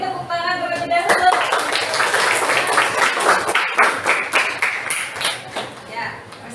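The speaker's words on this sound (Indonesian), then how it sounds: "beri tepuk tangan terlebih dahulu" A class of students claps hands together after a group presentation in a university classroom, a dense steady patter of applause lasting throughout, with a teacher's voice talking over it at the start.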